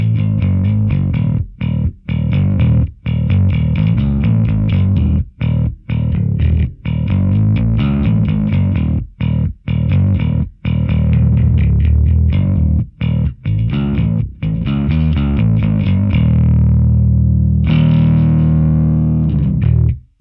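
Bass guitar played through a Tech 21 SansAmp Bass Driver DI V2 preamp pedal, loud and continuous with a gritty, distorted tone, notes broken by short regular pauses and a held, wavering note near the end.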